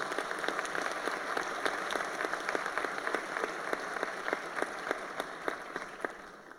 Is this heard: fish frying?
no